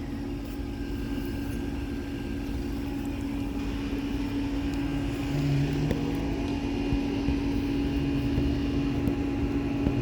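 An Aire-Flow AFAIR10 outdoor air conditioner unit runs alongside a Lennox Merit Series unit with a constant mechanical drone and steady tonal hum, close and unchanging throughout.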